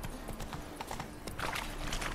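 Horse hooves clip-clopping at a gallop in The Witcher 3, steady rhythmic footfalls over a dense layer of in-game ambience and noise.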